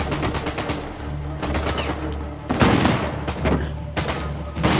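Gunfire in the video game Uncharted 4, a shotgun among it: loud, close bursts of rapid shots in several clusters separated by brief pauses, with heavy booming blasts punctuating the barrage.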